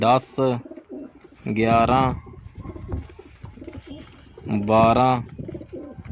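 A 14-feather Shakha pigeon coos in close, repeated bursts, loud and near, while people talk around it.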